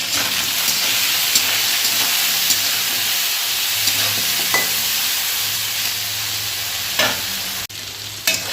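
Potato and eggplant pieces frying with salt and turmeric in a hot pan. A steady, close sizzle and hiss runs throughout, broken by a few scraping stirs and a brief dip near the end.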